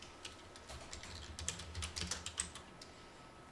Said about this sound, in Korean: 또 한 번 엔터 칠게요